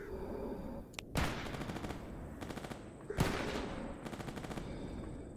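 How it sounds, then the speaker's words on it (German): Rapid bursts of automatic gunfire in the video game S.T.A.L.K.E.R. GAMMA, two loud volleys with sharp onsets followed by sustained rattling fire and echoing tails, with no talking. "Die schießen auf jeden Fall noch"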